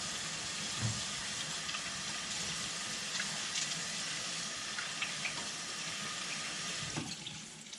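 Tap water runs steadily into a kitchen sink while hands are washed mid-cooking, a soft, even hiss that continues throughout with no voices.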